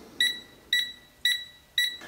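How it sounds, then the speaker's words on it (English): Four sharp electronic buzzer beeps from a TESMEN TM-510 multimeter detecting low voltage, in an even rhythm, about half a second apart, bright and close. "you'll get a green light with a buzzer."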